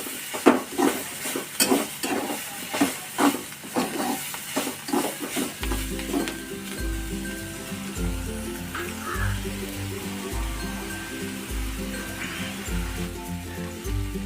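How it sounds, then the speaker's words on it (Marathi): Green chilies fry in a pan for Marathi thecha. A spoon stirs them with rhythmic scraping over a soft sizzle, then the sizzle continues under background music. "आणखी आपल्याला दोन ते तीन मिनटं व्यवस्थित असं फ्राय करून घ्यायची आहे मिरची"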